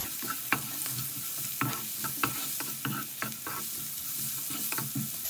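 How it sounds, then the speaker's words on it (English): Spice powder and onions frying in a pan for Indian fried rice, a constant sizzle punctuated by the scraping taps of stirring, close and moderately loud. "Now I'm just going to sprinkle a bit of this powder in here. Let this fry up."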